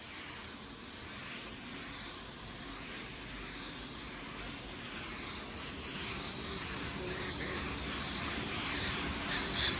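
A paint spray gun laying down a wet coat, heard as a continuous airy hiss that builds slightly in loudness and stays close and steady throughout, with no voices.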